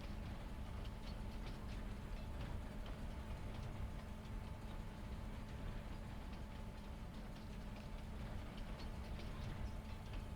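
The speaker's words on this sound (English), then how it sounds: "Take a nice little train trip." A train runs in Farming Simulator 22, heard from inside as a steady, muffled rumble with faint regular ticking of the wheels over the rails, continuous and even throughout.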